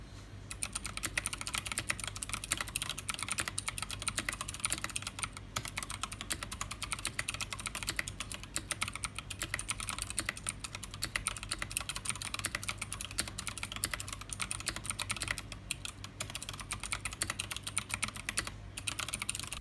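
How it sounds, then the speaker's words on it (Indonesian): Steady, continuous typing on a modded Vortex VX87 mechanical keyboard, close and clear, with rapid clustered key presses and no talking throughout. "langsung aja lanjut ke typing testnya."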